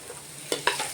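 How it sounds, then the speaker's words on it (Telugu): Green chillies drop into a hot pan of Maggi preparation, two quick sharp sizzling bursts over a faint background hiss. "ఇదిగోండి పచ్చిమిరపకాయలు వేస్తున్నా."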